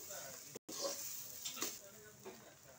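Spice masala roasts in a pan for a fish curry, giving a steady, soft sizzle with occasional stirring scrapes, fairly quiet and close.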